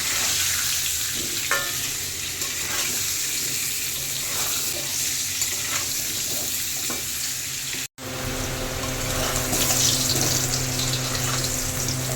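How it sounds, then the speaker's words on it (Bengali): Steady crackling sizzle of potatoes frying in hot oil, continuous and close, with occasional stirring scrapes and no talking. "কেটে ধুয়ে রাখা আলুটা এখন ভেজে নেব"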